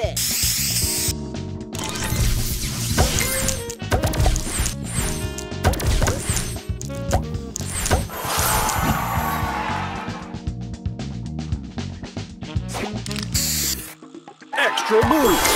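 Spray booster effect in the mobile match-three game Match Masters: a busy run of bright sparkly bursts, clicks and thwacks layered over game music, with brief gaps, loud and continuous for about fifteen seconds.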